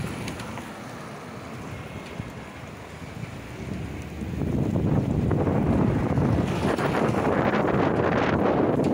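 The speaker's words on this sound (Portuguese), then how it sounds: "Muito vento." Strong storm wind buffets an outdoor microphone in Santa Maria as the storm arrives, a rough steady roar that swells sharply louder about halfway through and stays loud.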